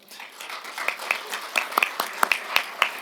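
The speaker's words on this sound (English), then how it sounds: "Please have a round of applause for them." A small audience gives guests a round of applause after a panel interview: sparse, separate claps that build into a light, uneven patter, fairly close and moderately loud, with no talk over them.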